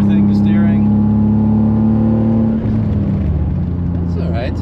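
A Toyota Supra MK3 engine drones and accelerates on a drive near the Nürburgring, a steady loud hum that shifts pitch partway through, with people talking over it.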